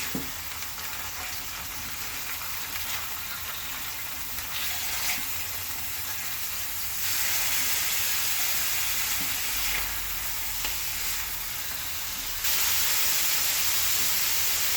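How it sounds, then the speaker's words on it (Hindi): A teaspoon of minced garlic fries lightly in a pan with boneless chicken pieces, giving a steady, bright sizzle that swells louder in stretches as the food is stirred. No one speaks. "ऐड कर रही हूँ 1 टीस्पून गार्लिक, लहसुन पिसा हुआ, हल्का सा फ्राई कर लेती हूँ"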